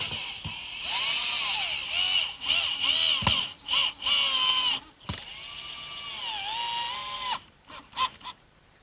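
A power drill bores pilot holes into hard oak for a workbench, its high motor whine rising and dipping in pitch through several close, loud bursts separated by short pauses.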